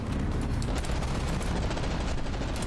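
Weapons firing in From the Depths, a thick continuous barrage of overlapping booms and rapid shots blending into a loud, unbroken roar.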